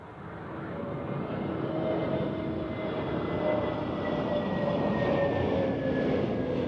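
EgyptAir airliner on approach to runway 14 at Zurich Airport in Christmas Eve crosswinds, a loud, steady broadband jet roar with thin whining engine tones that slowly rise, continuous and close throughout.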